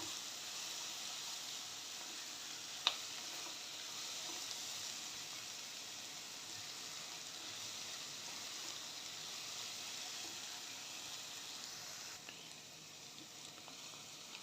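Mushrooms and garlic fry in a pan, giving a soft, steady sizzle and hiss with one brief clink early on, faint and continuous throughout.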